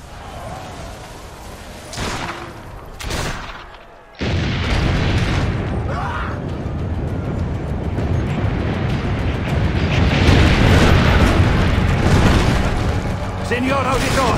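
Cannon fire in Assassin's Creed Brotherhood, a heavy boom that opens into a long, loud, sustained rumble of blasts and debris, following a quieter stretch with short bursts and voices heard at times.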